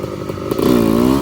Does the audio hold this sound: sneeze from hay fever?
no